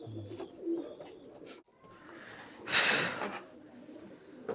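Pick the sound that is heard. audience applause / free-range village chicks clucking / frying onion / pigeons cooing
pigeons cooing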